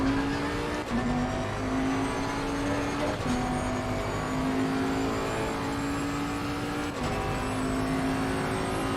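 A GT3 race car in a sim racing game at Silverstone drones at steady high revs, with several brief gear-change dips and other cars' engines blended in, loud and continuous with no talk.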